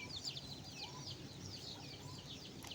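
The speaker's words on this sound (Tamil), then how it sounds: "கோழிங் கொத்தி கொத்தி மசால் பிள்ளை வேஸ்ட் பண்ணிடுச்சு" Chickens cluck and chatter continuously close by, several birds overlapping against a steady background of farmyard noise.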